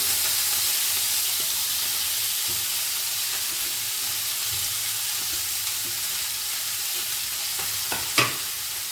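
Ginger and leafy greens cook in a pan for Bengali panch mishali shak, a steady close sizzle and hiss throughout with a few soft stirring scrapes and a sharper clack near the end.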